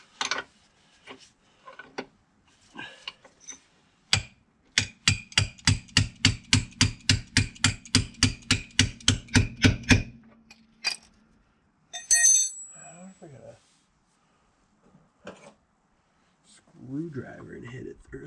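Rapid run of about twenty metal-on-metal hammer blows on a screwdriver driving out a lock-nutted rear subframe bolt on a Mk4 Jetta, with scattered single taps before and a voice talking afterward.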